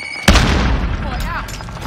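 A grenade goes off in a video game as one sudden, loud boom that rolls into a long rumbling decay, with a voice speaking around it.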